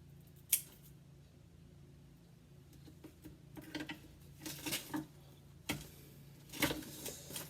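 Scissors snip through a Monstera adansonii stem during a propagation cutting, giving a few sharp, close clicks and crunches spread apart, with soft handling rustle between them.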